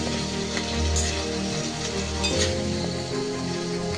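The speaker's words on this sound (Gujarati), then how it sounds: "આપણે સરખી રીતે સાંતળી લઈશું જ્યાં સુધી એનો માવો જે છે મસાલો તે માવામાં મિક્સ ના થઈ જાય" Masala mixture for dabeli sautéing in a pan, a steady close sizzle and hiss of frying with faint scraping of stirring throughout, no voices.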